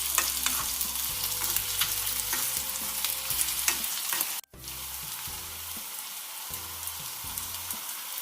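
Prawn curry base sautéing in coconut oil in a clay pot, Kerala style: a steady, close sizzle with stirring scrapes throughout, broken by one brief silent gap near the middle before the frying resumes.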